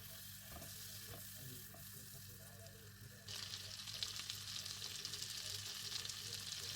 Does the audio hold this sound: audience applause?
no